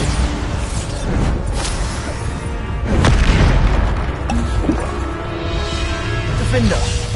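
Bombarda explosion spells go off in Hogwarts Legacy combat: deep booming blasts with a sharp, loud burst around the middle, rumbling over continuous game noise while a voice calls out spell names.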